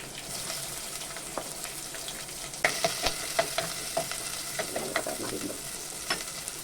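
Shallots fry in hot coconut oil with curry leaves and mustard seeds for a prawn curry, a close crackling sizzle with a run of stirring clinks and scrapes, no voices.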